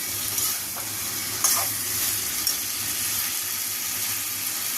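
Prawns frying in oil with onions for a prawn do-peyaza, stirred in the pan: a continuous close sizzle with a few louder scraping strokes of the spoon, no voices.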